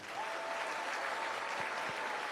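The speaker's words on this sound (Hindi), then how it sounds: "तालियां कुछ कम आ रही हैं।" Steady applause from an audience at a Hindu religious discourse in Indore, a dense continuous patter of many hands clapping at moderate loudness for the whole stretch, with no voices over it.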